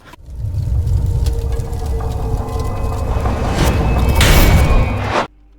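A projectile explosion in Overwatch 2: a rumbling burst swells into a heavy explosion-like roar with crackling debris, then cuts off abruptly.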